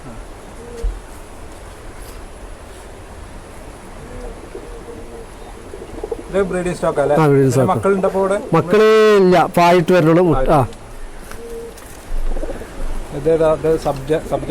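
Soft, rounded pigeon coos repeat close by, rising over a quiet background, while a person speaks at times between them.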